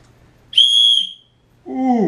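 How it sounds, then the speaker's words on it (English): A small plastic whistle from a cheap survival kit gives one loud, piercing blast lasting under a second, then a second shrill burst after a short pause, with no talking. "We got, looks to be a little whistle."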